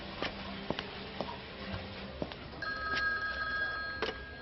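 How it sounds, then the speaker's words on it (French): A telephone bell rings in a 1992 French television drama, a few short bursts of ringing over a quiet room, with soft ticks and clatter in between and no one speaking. "Le téléphone est en bas, vous attendez que ça sonne avant de décrocher."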